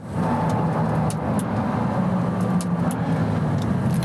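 A Pagani Huayra sports car engine drones steadily and loudly at close range, a continuous low rumble with a slight rise, accompanied by faint ticking sounds.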